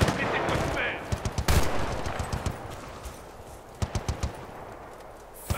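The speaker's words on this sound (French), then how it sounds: "Mitrailleuse embusquée, juste là." Machine gun fire in the video game Battlefield Bad Company 2 rattles in short, loud bursts of rapid shots, with scattered single cracks between them and a tense game soundscape underneath.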